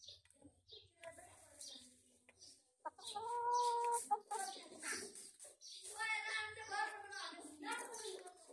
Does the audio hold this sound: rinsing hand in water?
no